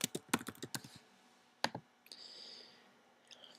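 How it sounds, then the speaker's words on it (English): Login details being typed on a computer keyboard: a quick run of close, crisp key clicks, a short pause, one more keystroke, then faint background hum. "I'm going to type in the login information"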